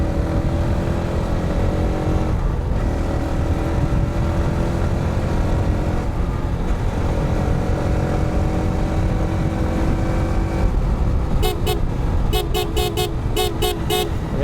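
Several quick motorbike horn toots burst out near the end over a steady, dense wash of road traffic engines, following a long stretch of continuous traffic rumble.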